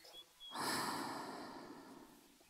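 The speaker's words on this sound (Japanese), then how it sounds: "寝息が聞こえるというか、吐息が聞こえるというか" One close, breathy exhale swells up suddenly after a brief quiet start, like a heavy sigh or snort near the microphone, then slowly fades.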